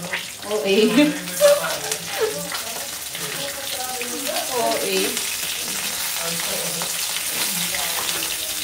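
Tilapia frying in a pan, with an even sizzle and occasional spatters behind someone talking over the cooking.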